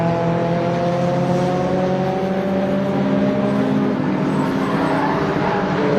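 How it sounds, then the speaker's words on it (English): Racing cars, including a Renault Clio and a Mazda RX-7, running at speed on the Oulton Park circuit, with engines droning steadily and loudly throughout and rising and falling in pitch as they pass. "Scrapping it out with Clio of Graham Huckster"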